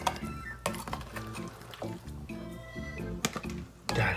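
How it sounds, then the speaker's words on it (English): Homemade salsa being stirred in a bowl, with wet squishing and sloshing plus a few clinks of a spoon on the bowl, mixed with a voice talking over it. "And then we are going to stir this bad boy up."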